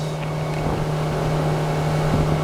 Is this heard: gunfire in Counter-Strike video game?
no